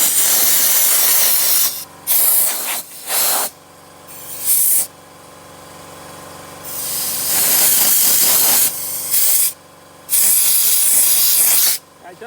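Compressed air blasts dust out of a very dirty PC in repeated loud hissing bursts of uneven length, separated by short pauses and quieter stretches where a fan spins.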